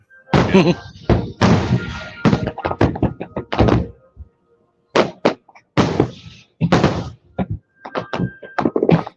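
Deep fireworks booms and thuds from an Independence Day display go off in irregular clusters, some overlapping, with pauses between volleys and voices mixed in.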